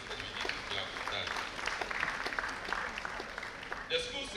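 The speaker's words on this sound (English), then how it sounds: "we need to clap for that" An audience at a university anniversary ceremony breaks into sustained applause, a dense patter of many hands clapping throughout, with a voice speaking over it.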